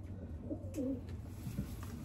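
Racing pigeons from a 350-mile final race, including a blue bar, coo softly with a couple of low, rolling calls over quiet background noise.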